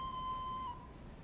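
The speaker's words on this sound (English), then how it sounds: "Whose whistle is that? it's Edward's." Steam locomotive whistle of the engine Edward in the train game Railroader, a single steady faint tone held for under a second before cutting off, heard alone over quiet background.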